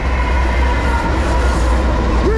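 A Norfolk Southern freight train led by an AC44C6M locomotive with a Union Pacific unit rumbles past at Middlesex, loud and close, with a steady low engine drone, wheel noise and a brief squeal near the end.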